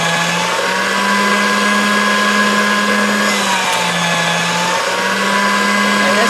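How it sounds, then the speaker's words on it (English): A pasta machine rolling metallic polymer clay produces a steady, unbroken mechanical hum with a faint whine on top. It sounds loud and close, with a couple of slight dips in pitch, and no voices. "So you always run it through the pasta machine in the same direction."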